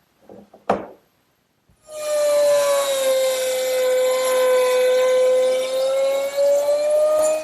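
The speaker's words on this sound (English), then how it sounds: "The straight slot is made easily by doing a pass from each side using a 1/4 inch round nose bit." A wood router with a 1/4 inch round nose bit cuts a straight slot in a writing desk part, a steady loud high whine after a brief knock, running alone.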